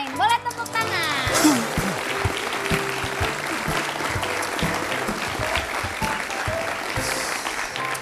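Enthusiastic applause from a television studio audience fills the room steadily for several seconds, with a brief voice at the start.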